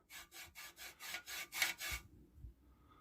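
A Raleigh Chopper Mk2 bicycle part has rust rubbed off it in about seven quick, rhythmic, raspy scrubbing strokes, close and fairly quiet, followed by a couple of soft thumps and then quiet, with no talking.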